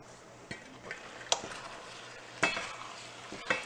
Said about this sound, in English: let's give everything a stir now